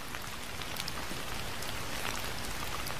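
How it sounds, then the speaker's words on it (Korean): Raindrops fall steadily in a dense, even patter, a continuous crackling hiss of many small drops with scattered louder ticks, alone and without voices. "빗방울 소리를 말하는구나."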